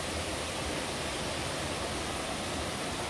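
A waterfall pours into a pool at Eden near Mismaloya, Mexico, making a dense, continuous roar of rushing water that holds steady throughout.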